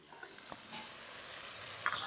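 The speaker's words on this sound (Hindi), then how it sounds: "मसाले को अच्छे तरीके से भून लेंगे" Masala of salt, garam masala, red chili and dried coriander frying in a pan for green chickpea pulao in a Pakistani village kitchen gives a soft, quiet sizzle that builds slightly.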